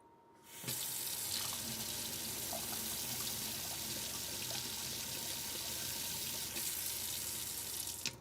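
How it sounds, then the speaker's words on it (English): Water gushes from a tap in a van build, starting abruptly after a quiet moment and then running in a steady, close, loud rush until the end. "let's just run a little bit of water"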